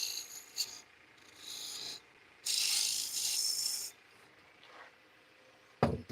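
A carbide woodturning tool cuts wood on a lathe, giving bursts of rough, scraping hiss at close range. They come in uneven bouts separated by quieter motor hum, with no speech.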